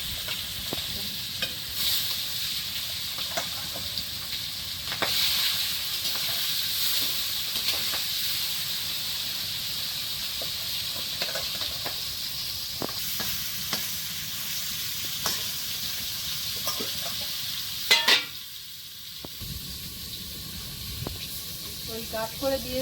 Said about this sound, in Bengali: তবু ওর মধ্যে আওয়াজ হচ্ছে তেল ছিটকে এদিক ওদিক করছে